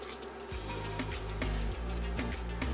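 Beef pot roast sizzles softly in oil in a pan while a utensil scrapes the bottom in repeated low, rhythmic strokes over a quiet, steady frying hiss.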